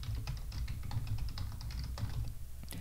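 Typing a password on a computer keyboard: a steady run of quick, close, light key clicks for a few seconds with no talking.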